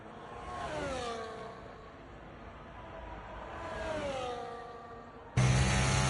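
An F1 car engine at full throttle in an F1 video game, rising harmonic whine through gear changes, loud and continuous, with a sudden louder burst near the end.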